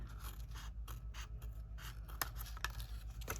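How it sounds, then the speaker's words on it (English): Scissors snip a scored paper tab away from a stamped cardstock piece during card making, giving a few close, soft cuts and crisp scrapes over a low steady hum. "and cut this whole tab away"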